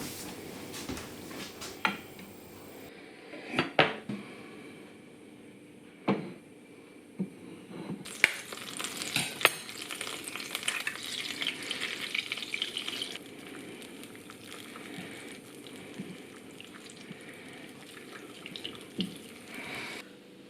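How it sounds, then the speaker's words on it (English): An egg frying in a pan, giving off a steady crackling sizzle that swells in the middle and mixes with a few sharp clinks and knocks of kitchen utensils. "What I do like is a fried egg"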